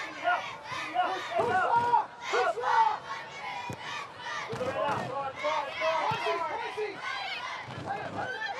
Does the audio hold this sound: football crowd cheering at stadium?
yes